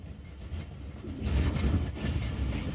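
Tezgam Express passenger train rolling into a station, a steady low rumble of wheels and carriages that swells louder midway and continues close by, with no voices.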